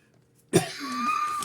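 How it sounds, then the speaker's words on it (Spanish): A single sharp cough breaks a near-silent pause, followed by a rough, wheezy throat-clearing rasp close to the listener. "hoy estoy complicado de mi tos"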